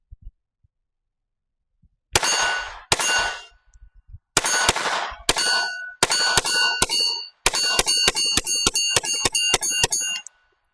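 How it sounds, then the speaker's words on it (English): Taurus TX22 Gen 2 .22LR pistol fired in a run of sharp, loud cracks, first spaced singles and then a rapid string of shots, with silence in between and no talk. "Let's go ahead and do more shooting with the Taurus TX22 Gen 2."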